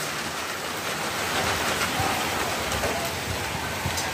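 Steady rain falls on a rural veranda, a dense, even hiss of drops on surfaces with occasional nearer drips, heard fairly close with no voices.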